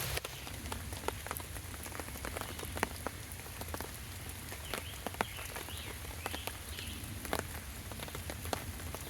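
Steady rain patters on surfaces in a wooded campsite at Mohican State Park during an overnight backpacking trip, with soft irregular drip impacts close by and no talk.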